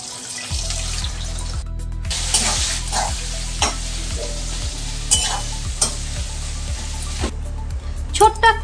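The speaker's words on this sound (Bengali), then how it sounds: "দিয়ে দিচ্ছি তেলের মধ্যে। পেঁয়াজটা লাল লাল করে ভেজে নেব।" Two medium chopped onions frying in oil for a mutton curry sizzle steadily up close, with stirring scrapes, brief pauses and a low repeating hum running underneath.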